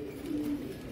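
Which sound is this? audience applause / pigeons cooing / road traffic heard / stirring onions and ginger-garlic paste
pigeons cooing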